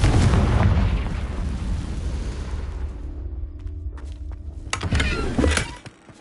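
A fire-spell blast from Hogwarts Legacy erupts as a loud, booming explosion that rumbles and decays over several seconds, followed by a couple of sharper crackling bursts near the end.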